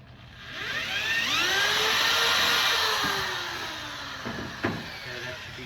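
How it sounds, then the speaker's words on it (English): A power drill whirs steadily, its pitch rising and falling as it bites into a Himalayan salt brick, then trails off with a few knocks at the end. "hit it with the drill a little bit more."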